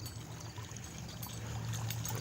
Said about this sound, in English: And you can see I made this water fountain thing.